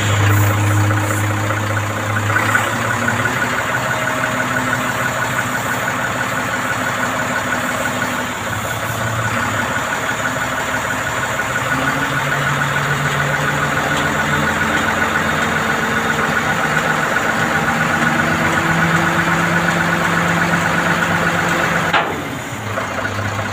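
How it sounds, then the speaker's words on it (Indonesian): A Mercedes Axor 2528 dump truck's diesel engine runs at a steady, loud idle-like drone while the dump body rises, with a low mechanical hum throughout and a brief change near the end. "Oke, setelah kopling dilepas, vessel akan naik."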